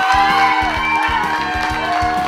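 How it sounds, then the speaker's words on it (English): Baseball crowd at a single-A championship game rising and cheering as the Bulls tie it on a stolen base and a catcher's throwing error; loud sustained roar and whoops throughout. "Crowd comes to their feet as the Bulls tie it up on a stolen base and a throwing error on the catcher."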